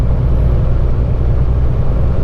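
Engine of a roughly 50-year-old Kenworth W900 truck, a loud continuous low diesel rumble heard close from the cab, steady with no voices.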